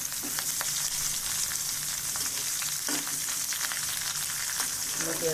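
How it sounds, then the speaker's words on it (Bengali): Onion, garlic and ginger frying in mustard oil in a kadai, a steady, moderately loud sizzle with faint crackles and an occasional stirring clink, without speech. "পেঁয়াজ রসুন আদাটা সুন্দর করে ভেজে নিচ্ছি"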